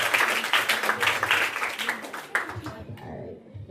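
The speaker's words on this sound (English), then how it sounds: "Now let's give Miss Roberts another round of applause." Audience applauding at a school graduation ceremony, a broad patter of many hands that holds for a few seconds and then tapers off as it dies down.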